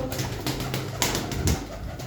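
A pigeon coos close by in soft, repeated throaty rumbles, with a few rustles in between and no talking.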